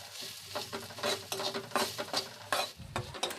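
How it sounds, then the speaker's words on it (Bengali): Garlic frying in a pan with salt, turmeric, coriander and chili powder, stirred in steady scraping strokes over a continuous sizzle, close and fairly quiet, with a light clink of utensil on pan. "এরপর 1 ছোট চামচ করে নুন, হলুদ, ধনিয়া, লঙ্কা গুঁড়ো দিয়ে মশলাগুলোও ফ্রাই করব"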